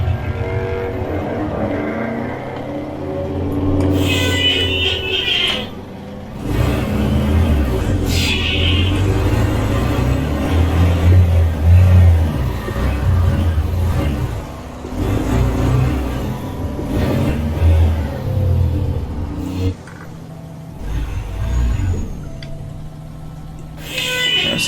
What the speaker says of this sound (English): Wow, these engines sound rough.